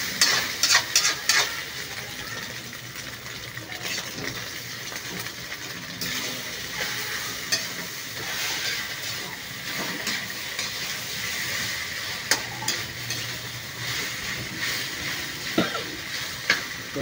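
Chili being stirred and fried in a pan, a continuous sizzling hiss with occasional louder scrapes and clinks of the utensil against the pan, close and steady throughout.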